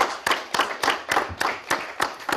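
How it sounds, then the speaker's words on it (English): A small room of people claps for housing counselors in a short round of applause, the hand claps landing in a steady, fairly even rhythm, moderately loud and close. "let's give a round of applause to the housing counselors"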